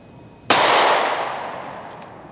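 A single loud, sharp gunshot from a snub-nosed revolver firing a .38 Special +P PDX1 hollow-point round into ballistic gel, followed by a decaying ring that fades over about two seconds.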